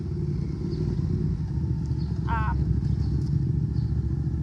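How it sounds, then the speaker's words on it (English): A motorcycle passes on a nearby road, a steady engine rumble that builds slightly toward the middle and then eases, with a brief chirping sound partway through and no speech. "Sorry, there's a motorcycle going by."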